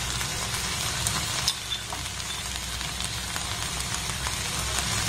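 Okra fries in a pan with no water added, giving a steady close sizzle and crackle that stays even throughout with no voices.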